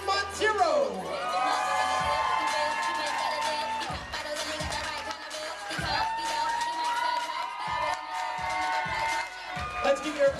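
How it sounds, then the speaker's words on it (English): Wedding guests at Alpine Country Club cheer, whoop and clap as the junior maid of honor and junior ushers are introduced, a loud lively crowd roar with shouts, a DJ's voice and thumping music underneath. "Let's give your applause going to junior maid of honor and junior ushers."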